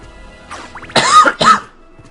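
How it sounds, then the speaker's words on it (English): A man coughs a few times, with harsh, close bursts and some throat clearing, during a Castlevania: Symphony of the Night gaming session. No one speaks during the coughing. "Sorry about all the coughing."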